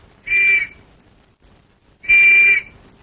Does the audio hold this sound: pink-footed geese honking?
no